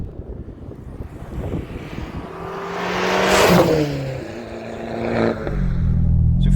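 Small Abarth 595, the hot Fiat 500, accelerating hard on a wet road: engine note climbs through rising harmonics, loud and close, with tyre hiss from the wet surface and a gear change near the end.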